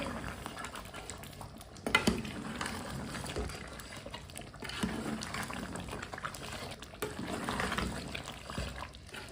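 A spoon stirs meat and oil together in a pot, giving a soft, continuous wet churning with light scrapes and clinks against the metal, fairly quiet and even throughout.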